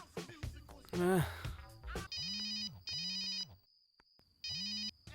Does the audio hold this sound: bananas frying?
no